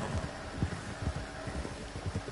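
Hooves of a gypsy cob horse in the Red Dead Redemption 2 online game, with a steady rhythm of muffled low thuds under constant windy ambience.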